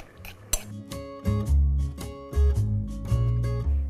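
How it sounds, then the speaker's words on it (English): A spoon stirs rajma masala in a pot with a little salt, black pepper and coriander leaves, close and fairly loud, giving repeated scraping and knocking strokes against the metal in an uneven rhythm with no talking. "give that all a good stir"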